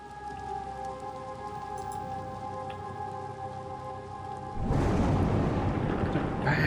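Video game rain: a steady hiss falls with a faint tonal hum underneath, then swells suddenly into a heavier, louder downpour.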